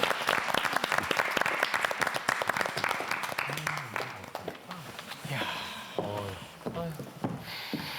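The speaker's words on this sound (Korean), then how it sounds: "김혜숙님 모시겠습니다. 여러분 박수로 맞으십시오." An audience at a Korean TV studio applauds to welcome North Korean defector Kim Hye-sook, a dense burst of clapping that thins out into a few scattered claps with some murmuring.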